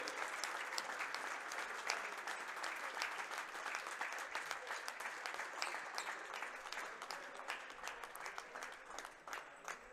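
A crowd at a youth basketball award ceremony claps for the silver-medal Keflavík team, producing dense, sustained applause that stays steady and fairly distant without a break.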